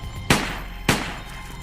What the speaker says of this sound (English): The next thing Rodney heard was gunshots in the parking lot.